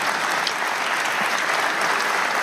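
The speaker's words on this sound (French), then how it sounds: "Les applaudissements qui retentissent" Applause rolls steadily through the crowd at a mixed-triples pétanque match, a dense continuous clatter of clapping hands with no pauses, held at an even loudness throughout.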